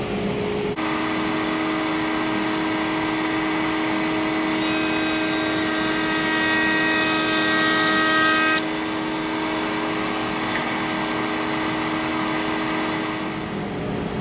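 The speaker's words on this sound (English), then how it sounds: "We're just doing about a 1/16 of an inch bevel with a V-groove bit to cut that little detail in the panel there" Router fitted with a V-groove bit cutting a shallow 1/16-inch bevel detail into a cabinet door panel, a loud steady high-pitched whine running throughout, with the cutting load rising to a harsher tone for a few seconds midway.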